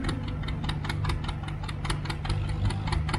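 Antique tractor engine at a tractor pull, held at part throttle, popping in a steady rapid rhythm with a constant low drone, fairly close and continuous throughout with no talk.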